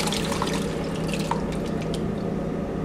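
Passata mixed with water is poured over pork in a pot, a steady dense liquid pour with small drips, close and continuous without talk.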